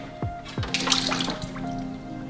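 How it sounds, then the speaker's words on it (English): Coolant drains out of a car radiator during an FL5 radiator installation, with a few close drips followed by a short splashy trickle of liquid and no talking. "this coolant will probably come out"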